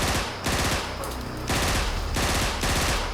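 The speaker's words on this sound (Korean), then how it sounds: "본대 대응 사격" Sustained military gunfire during a return-fire drill by a special forces regiment, dense loud rapid bursts of automatic fire rattling almost without pause, close and harsh.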